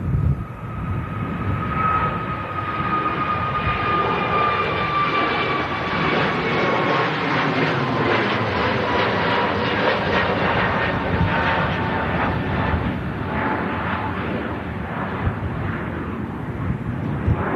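A newly delivered airplane's engines roar continuously, a broad, loud rumble with a high whine fading slightly over time as the aircraft passes at moderate distance outdoors.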